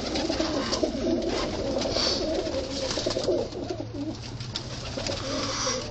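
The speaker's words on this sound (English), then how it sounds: "or Freddie flying pigeons in Brooklyn" Pigeons cooing steadily in Brooklyn, a dense, continuous murmur of soft coos from a flock close by, with a faint rustle of wings now and then.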